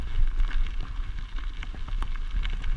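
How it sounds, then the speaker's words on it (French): Wind gusting across a hilltop ridge near Bonnieux, a steady low roar of buffeting against the microphone with scattered crackles, loud and continuous throughout. "Avec le vent qu'il y a à travers la colline, c'est pas top."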